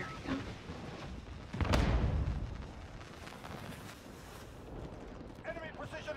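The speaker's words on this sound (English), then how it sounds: "Enemy precision airstrike, take cover!" A precision airstrike in Call of Duty sets off a heavy explosion boom with a rumbling tail, followed by scattered gunfire and game noise, while players keep talking over it.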